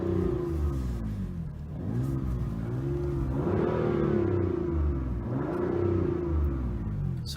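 A BMW M4 Competition engine, warmed up, revs in repeated throttle blips, rising and falling in pitch several times over a steady rumbling idle, loud and close.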